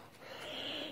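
A 26-day-old wolf-mix puppy on its first day outdoors gives a short, faint whimper, a thin whine lasting about a second.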